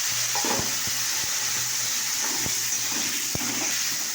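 Cumin and chillies frying in a pan with water, a steady loud sizzle with scattered clicks and scrapes of stirring, close by and with no voices.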